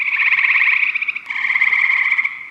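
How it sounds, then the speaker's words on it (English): Eastern gray tree frog calling alone in a steady, close, loud trill of rapid pulses, with a brief break midway before the trill resumes. "Another type that we'll run into, the eastern gray tree frogs,"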